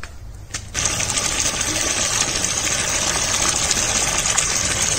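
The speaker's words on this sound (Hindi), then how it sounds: "इतनी तेज रफ्तार से पानी आ रहा है नीचे," A borewell pump forcing water up from underground, which starts abruptly after a brief quieter moment and then holds as a loud, steady, broadband rushing gush, close by and with no talking.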